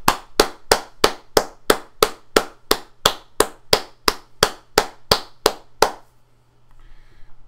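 Single hand clapping recorded in Audacity, about sixteen sharp, evenly spaced claps at a steady rhythm, close and clear, then the clapping stops and only faint room noise remains.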